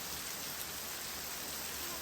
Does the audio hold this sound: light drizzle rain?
yes